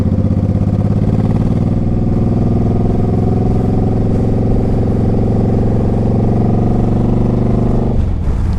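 A 2006 Suzuki Boulevard C50T motorcycle pulls in first gear, its engine a loud, close, steady drone rising slowly in pitch before dropping off sharply near the end.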